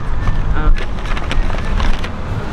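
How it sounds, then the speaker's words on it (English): Strong outdoor wind buffets the microphone with a continuous loud rumble and roar that rises and falls throughout, with no clear speech. "I told you, it's windy as fuck."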